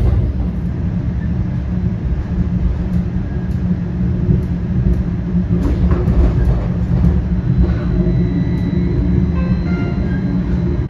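Battery-powered Hop light-rail streetcar in Milwaukee, heard from inside on a ride. A steady, loud rumble of rolling wheels and motor hum runs throughout, with light clicks and brief squeals near the end.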